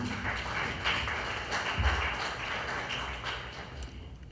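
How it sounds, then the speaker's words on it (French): An audience applauds young volunteers at a ceremony, steady moderate clapping that fills the whole stretch at a fairly even level, with faint voices underneath. "je voudrais applaudir ces jeunes qui sont des bénévoles"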